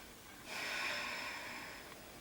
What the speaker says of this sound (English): Breathing here for a few breaths.